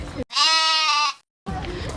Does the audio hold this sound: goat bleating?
yes